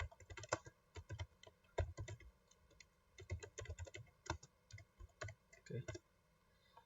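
Computer keyboard typing of CLI commands for a Packet Tracer networking exercise, with quick clustered keystrokes in uneven bursts and short pauses, close and fairly quiet, without talk over it.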